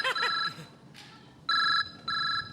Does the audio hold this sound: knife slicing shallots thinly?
no